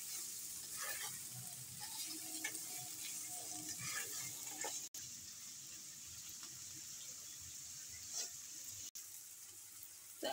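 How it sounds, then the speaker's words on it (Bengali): Mixed vegetables frying in a pan while cooking noodles give a steady, close sizzling hiss with stirring scrapes, running continuously without speech apart from two brief cuts. "এখন এই সব সবজি আমি আবারও ভেজে নেব।"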